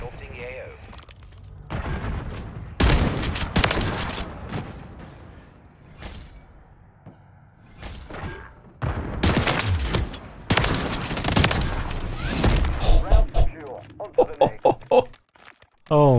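SPAS-12 shotgun blasts in a video game, heard as several loud bursts of gunfire clustered mid-clip and again near the end, with talking in between.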